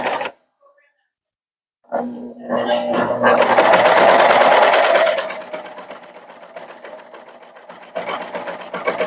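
A serger sewing machine stitches down red trim on a zippered pouch, starting after a brief silence and running as a loud, steady mechanical whir, then easing to a lower hum with a renewed burst near the end.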